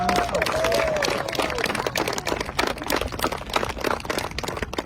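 An audience applauds at the dedication of a Native American veterans memorial, a dense stretch of clapping that starts full and thins slightly while staying steady, with a faint voice at the start.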